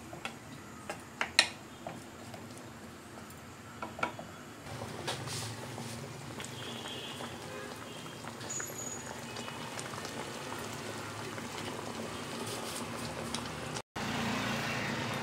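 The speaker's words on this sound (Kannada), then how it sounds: "ಇವಾಗ ಇದು ಮಾವಿನಕಾಯಿ ಬೇಯ್ಕೋಬೇಕು, ಬೇಯೋವರೆಗೂ ಹೀಗೆ ಕುದಿತಾ ಇರಲಿ." A pot of raw mango gojju curry simmering on the stove, a soft steady bubbling hiss with faint irregular ticks and pops, quiet and continuous with a few sharper clicks early on.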